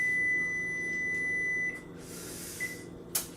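An oven timer signals that food is ready with a steady electronic tone that holds for a couple of seconds and then stops, followed by a brief chirp and a light clunk nearby in a quiet kitchen.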